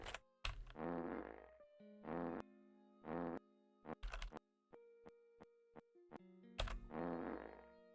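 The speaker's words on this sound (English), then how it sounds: "you get the triple penta fart combo just for what you made me do" Fart sound effects are played on a livestream in a rapid series of loud, distorted, bassy blasts with some echo, separated by short gaps and thin electronic tones.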